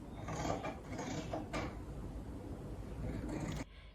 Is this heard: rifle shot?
no